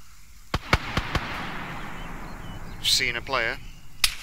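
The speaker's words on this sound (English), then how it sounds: "Someone shooting down from the hill up there." Several sharp gunshots in Arma 3, a quick run of four near cracks early on and another single shot at the end, with a person speaking in between.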